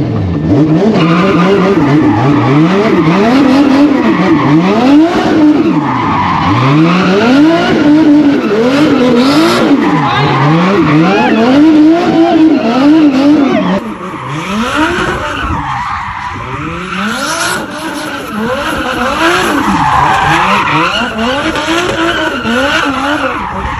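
A drifting car howls with tires skidding and squealing while the engine revs up and down in rapid waves, loud and close, easing off slightly midway before building again.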